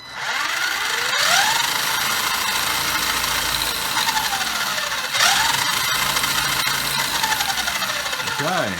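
UD1202 1/12 scale basher RC truck with a 550 brushed motor and lithium-ion pack at full throttle, a loud high motor whine rising in pitch twice and holding, ending in a quick drop and rise, close up.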